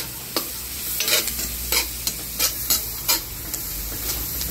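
Mussels frying and being stirred in a pan for coconut-milk adobo, with a steady sizzle beneath a series of sharp scraping stirs spaced about every half second, close and moderately loud, with no talking.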